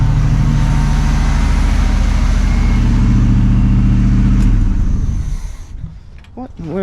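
A 1979 Chevrolet Camaro Z28 V8, its carburetor freshly rebuilt, idles with a loud, steady, deep rumble for about five seconds before the engine noise drops away. A voice is briefly heard at the end.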